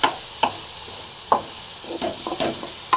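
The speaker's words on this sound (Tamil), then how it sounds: "அப்படியே ஒரு கலக்கு கலக்கிட்டு அப்படியே இறக்கிடலாங்க" A spoon stirs green pea sundal in a pan at close range. Several sharp scraping clinks sound against the metal over a light sizzle, at an uneven rhythm and with no talking.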